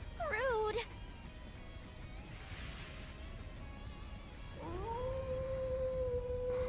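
A wolf's howl from the video game The Legend of Heroes: Trails into Reverie, a long rising wail in two parts that slides upward and then holds steady, heard over a low game soundtrack.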